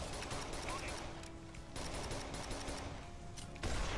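Rapid bursts of gunfire from Rainbow Six Vegas 2 run almost continuously, dense and fairly faint, with a voice talking over the shooting.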